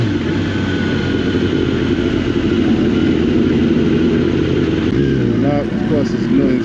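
Motorcycles idling and rumbling at a crowded bike night in Brooklyn, including sport bikes like a 2021 Kawasaki ZX-10R, a loud continuous engine drone with a voice talking over it.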